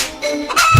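A hen clucks in a short, close burst of squawking calls amid busy background noise, with no talk.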